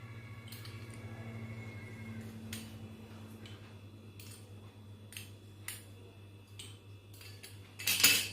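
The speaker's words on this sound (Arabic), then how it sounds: "قطع مثلث اللي يكون رقيق." A knife cuts thin dough into small triangles for savory Ashura cookies, giving a series of soft, sparse taps and scrapes on a board over a low steady hum, ending in a brief louder clatter.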